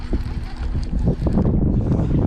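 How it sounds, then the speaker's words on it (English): Gusty wind buffets a kayak on a lake on an early spring day, a steady low roar with microphone rumble and faint water movement, no talking. "it's windy out here"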